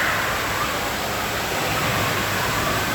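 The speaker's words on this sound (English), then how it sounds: "I'm finally at the water park today" Steady indoor water park ambience at a Great Wolf Lodge resort: a continuous, even rush of splashing and falling water fills the space without pause, with no clear separate events.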